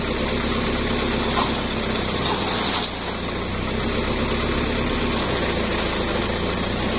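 Soil drilling machine engine running steadily throughout, a loud continuous mechanical drone with broadband noise and no pauses.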